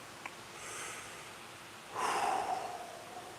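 Slow, deep breaths during a seated breathing exercise: a soft airy inhale early on, then a louder, longer rushing exhale near the end, close and otherwise quiet.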